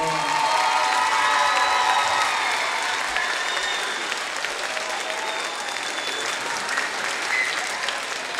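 Parents in a school auditorium applaud a band director at a middle school spring concert for beginning band and choir. The sustained clapping is fairly loud and even, with a few faint whoops mixed into the crowd.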